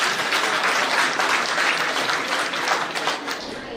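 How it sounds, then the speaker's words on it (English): Audience at a law college degree distribution ceremony claps for graduates in a dense, sustained round of applause, fairly loud and even, with murmured voices beneath. "Audience, please clap and encourage the graduates."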